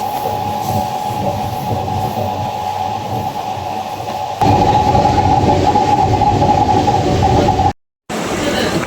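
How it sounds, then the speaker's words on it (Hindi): A passenger train runs steadily, heard from on board as a continuous loud rumble and hum that swells partway through, with a brief cut near the end. "अब इस ट्रेन से जाएंगे।"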